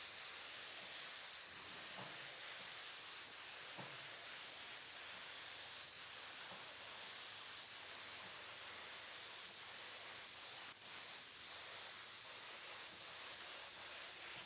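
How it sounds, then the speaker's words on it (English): A spray gun lays down an even coat of gold paint over a skateboard deck, giving a steady, unbroken airy hiss that runs at constant loudness throughout. "just spray a nice even coat of gold over the whole thing"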